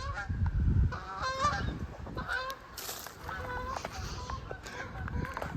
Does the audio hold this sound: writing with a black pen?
no